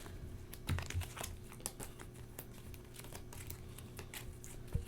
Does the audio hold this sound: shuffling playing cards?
yes